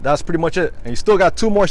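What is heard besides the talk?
No distinct noise like a dog, phone or traffic.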